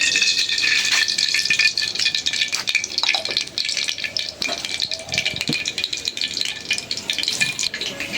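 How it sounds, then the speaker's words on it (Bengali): Oil heating in a wok with more oil just added, giving a continuous close crackling sizzle with rattly spits and pops throughout. "এই যে কড়াইতে তেল দিয়েও আছে আর একটু তেল দিয়ে দিলাম"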